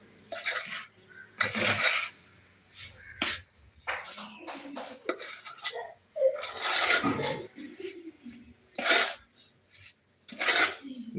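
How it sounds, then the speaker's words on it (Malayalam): Ingredients for a sweet cake batter with raisins are stirred and mixed together in a bowl, making irregular bursts of rough scraping and rubbing with short quiet gaps between strokes. "ഇനി നമുക്ക് എല്ലാം കൂടെ ചേർത്ത് ഇളക്കി കൊടുക്കാം"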